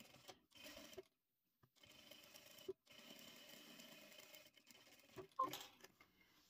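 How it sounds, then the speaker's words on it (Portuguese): Sewing machine stitching a seam across fabric lining in short quiet bursts of rapid patter, with brief pauses between runs. "E vou passar uma costura aqui no último forro que eu apliquei."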